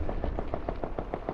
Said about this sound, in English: You know, you hearing the gunshots and everything.